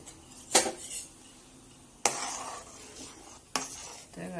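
A spoon stirring a coconut mixture with sugar in a cooking pan, three distinct scraping strokes spaced over a few seconds, near and fairly quiet, with a faint sizzle in between.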